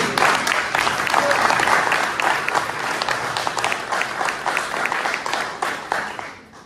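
An audience at a Parti Québécois regional founding assembly in Laurentides-Nord applauds, with dense, loud clapping that slowly thins and fades toward the end.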